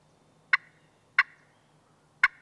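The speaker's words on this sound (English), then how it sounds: "Once again, here's the basic clucking," Three sharp, evenly spaced turkey clucks from a friction call, crisp and close, with quiet pauses between them.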